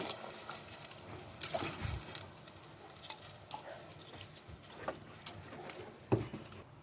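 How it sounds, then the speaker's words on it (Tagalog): Water is poured into a pan of sautéed onions and sardines. A hissing splash and sizzle come up close, mixed with scattered metal stirring clinks and a sharp knock near the end, with no speech. "Lagyan din natin yan ng tubig."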